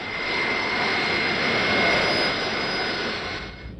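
A Concorde supersonic jet departs Heathrow on its 1977 inaugural flight to New York, its engines a loud, sustained roar with a whining tone that holds steady and then begins to fade away.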